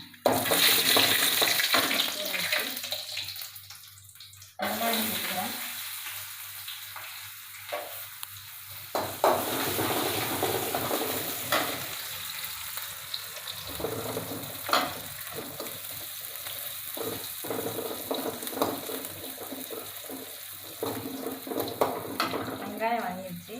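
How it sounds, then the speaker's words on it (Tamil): Fennel seeds, cinnamon, cloves and bay leaf sizzle and crackle in hot oil for tomato rice, with stirring, intermittent clatter and bursts of running water at the start. "சோம்பு பொரிஞ்சிச்சு நான் வந்து பட்டை லவங்கம் பிரிஞ்சலை இலை இது இதெல்லாம் சேர்த்துக்கிறேன்"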